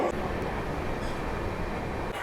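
A new Amrit Bharat Express, with only sleeper and general coaches, rolls through Panagarh railway station. Its dense, steady rumble and rattle are heard from on board, constant throughout with no voices.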